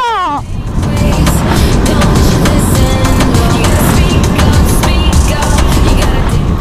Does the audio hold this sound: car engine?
yes